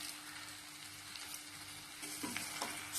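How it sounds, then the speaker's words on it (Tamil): Chopped chow chow (chayote) sautéing in a pan, giving a continuous close sizzle and crackle with faint stirring scrapes, steady throughout. "இது மாதிரி நல்லா சிம்லயே வச்சு ஒரு 2 நிமிஷம் நல்லா வதக்கி விட்டுறலாம்"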